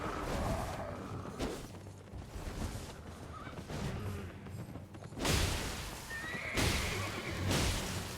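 A horse neighs loudly in the video game Elden Ring, with repeated whinnies and swishing, thudding combat noises over steady game ambience.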